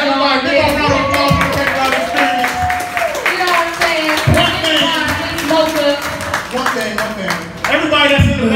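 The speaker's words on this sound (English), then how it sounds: "Everybody. Give a round of applause." Applause at a Paper Route Experience event: steady, rhythmic hand claps from a crowd keep going throughout, mixed with a voice and loud background sound.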